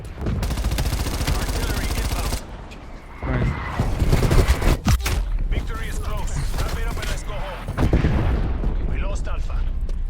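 Heavy explosive bursts and gunfire of artillery striking in an online military shooter match, loud and dense, with a sharp drop in intensity midway before barrages resume, while players talk over it.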